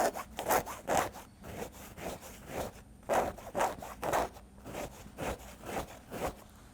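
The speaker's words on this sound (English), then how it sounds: "I think we should do a little scratch test just so you can hear how" Soft raw selvedge denim being rubbed up close to the microphone, producing rhythmic scratchy swishes in quick paired strokes, fairly quiet and with no talking.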